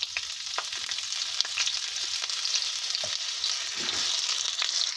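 Cut potatoes fry in hot mustard oil, a steady soft sizzle with scattered pops and light spatula scrapes, close by.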